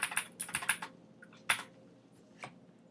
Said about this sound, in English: maneuver it into position using the directional arrows on the keyboard